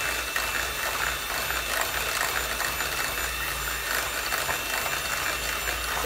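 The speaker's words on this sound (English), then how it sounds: "I'm just going to whisk it." An electric whisk whips cream in a bowl to piping thickness, giving a steady, close mechanical whirr with a rattling, ratchet-like texture that runs unbroken throughout.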